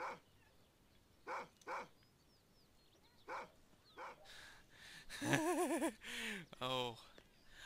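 Barking from a dog in the Hitman: Blood Money video game, heard as several short separate barks followed by a louder run of whimpering, yipping barks near the end, with someone talking over parts of it.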